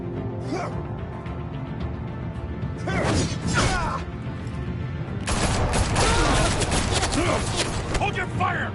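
Chaotic gunfire with loud repeated shots and crashing impacts surges in clusters under dense background noise, while voices shout and talk over the shooting.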